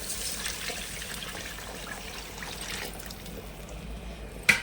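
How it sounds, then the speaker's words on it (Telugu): Water pours steadily into a pot for a few seconds, a soft continuous splashing close by, ending with a brief clink. "ఇప్పుడు వాటర్ పోసేస్తున్నానండి"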